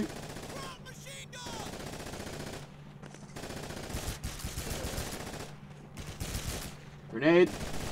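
Video game Call of Duty 2 machine gun fire in long rapid bursts separated by short pauses, loud and close, with a voice talking briefly near the end.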